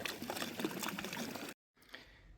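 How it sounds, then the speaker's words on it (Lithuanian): Hands splash and slosh in cold, fresh spring water in Birštonas, a close, steady watery rush that stops abruptly, then a few faint drips and splashes follow. "Oi, koks geras gėlas vandenėlis"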